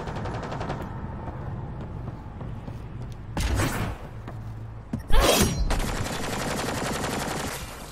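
Gunfire during combat in Mass Effect Andromeda, a rattling automatic stream of shots under a low hum, broken by two loud sharp blasts with crackling tails near the middle.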